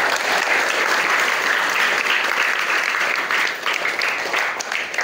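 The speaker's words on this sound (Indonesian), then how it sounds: "Tepuk tangan untuk Darussalam dahulu." Sustained, dense audience applause at a gathering, loud and steady throughout with no break, a large crowd clapping together without any speech.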